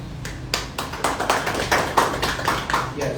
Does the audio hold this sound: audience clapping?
yes